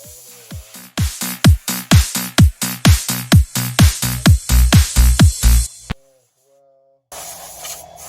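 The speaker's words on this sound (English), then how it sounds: "take your air can here and just do a light dusting over the entire car" Close, loud bursts from a compressed air can hiss in a rapid rhythmic series of short sprays over a Traxxas Slash RC car, then cut off, followed by a brief pause and another hiss.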